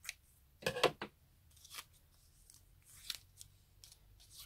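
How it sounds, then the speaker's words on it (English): Scissors snip through a piece of cheesecloth during a journal craft project, giving a quick cluster of close, crisp cuts followed by a few isolated snips with quiet pauses between them. "let me find a piece of cheesecloth. And I'm just going to cut this down"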